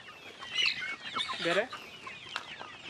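Two-month-old Giriraja chickens on a traditional country chicken farm cluck in a busy cluster of short, close calls. A faint voice may sit beneath the clucking.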